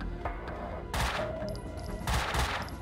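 Gunfire in Max Payne 2: The Fall of Max Payne, two loud bursts of rapid shots about a second apart, with quieter clatter and a few sharp pings between them, no talking.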